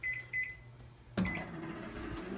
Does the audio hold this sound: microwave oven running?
yes